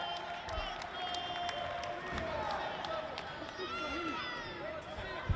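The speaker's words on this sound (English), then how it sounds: "You can hear the crowd cheering for them." A wrestling event crowd cheers and claps steadily through a full arena, a continuous roar with scattered whoops, while a voice talks over it.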